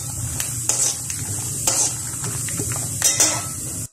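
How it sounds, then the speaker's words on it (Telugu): Almonds frying in ghee give a steady close sizzle, broken by a few spoon scrapes and light clinks against the pan as they are stirred. "ఫస్ట్ బాదాం యాడ్ చేసుకొని గోల్డెన్ బ్రౌన్ వచ్చేంత వరకు వేయించుకుంటాము"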